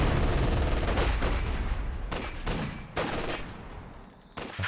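Dense bursts of gunfire fill a Company of Heroes 2 battle, a machine gun rattling nearly continuously with brief pauses and renewed volleys over a low rumbling background.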